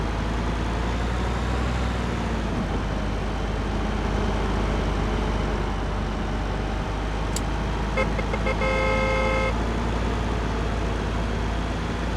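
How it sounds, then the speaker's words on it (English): A car horn honking in the driving game Car Dealer Simulator, a short cluster of toots late in the stretch over a constant loud engine drone and road noise. "I'm not honking at anyone because they're driving poorly."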